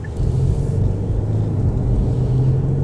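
A Genesis EQ900 sedan pulls away from a standstill, its engine a steady low rumble heard from inside the cabin, building slightly and holding at a moderate level.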